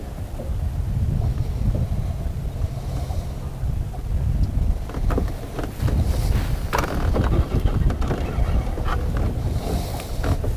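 Chilly wind blows across open water during a fishing trip, a steady low rushing buffet with intermittent gusts and faint clatter, no talking.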